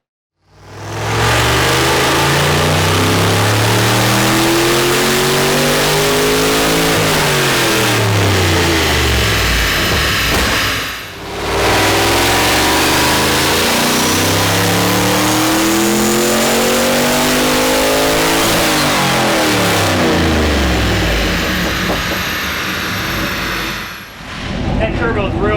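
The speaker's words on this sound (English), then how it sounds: "That turbo's real whistly" Turbocharged single-turbo Chevy SS engine revving loudly and repeatedly, rising and falling sweeps with a high turbo whistle riding on top, close and continuous, with people talking underneath.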